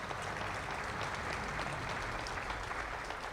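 A ceremony crowd applauds its sponsors, a full, sustained wash of many hands clapping at a steady level throughout.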